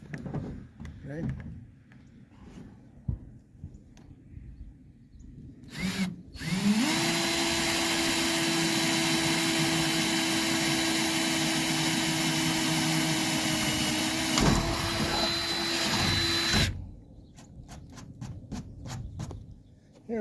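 A power drill whirs steadily for about ten seconds at close range, drilling through a pickup truck bed rail with wood laid underneath, its pitch holding level before it cuts off, with brief talk and handling sounds around it.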